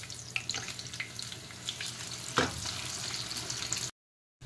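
Bread patties sizzle in hot oil in a kadhai, a steady, fairly quiet crackle with occasional louder spatters and a brief clatter, ending abruptly in silence.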